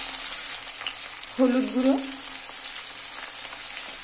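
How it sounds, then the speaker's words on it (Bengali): Taro stolons (loti) sizzling in hot oil, a constant close frying hiss throughout, with a brief spoken phrase partway through. "দেখো তেলটা গরম হয়েছে, আমি লতিগুলো দিয়ে দিচ্ছি।"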